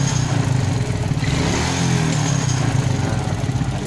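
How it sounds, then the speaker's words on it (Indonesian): A carbureted motorcycle engine runs steadily and loudly up close, a low throbbing idle with rough, uneven pulses that hint at popping as the throttle is let off; no one speaks. "nembak-nembak ini kalau kita turunkan gasnya teman-teman ya"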